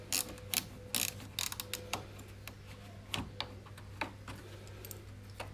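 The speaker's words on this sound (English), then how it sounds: "So let's just remove this bolt here, which I've already loosened off." Ratcheting clicks from a wrench removing the coolant expansion tank bolt on a Vauxhall Corsa engine, with a quick, uneven run of sharp close ticks over a steady low hum.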